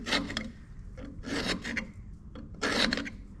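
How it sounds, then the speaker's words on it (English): Threads are cut on the end of a steel rod for heavy-duty Heim steering, heard as three rhythmic rasping strokes of a die grinding back and forth, close and fairly loud. "Gonna make a couple of threads on the end of it."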